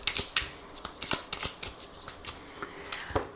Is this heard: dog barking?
no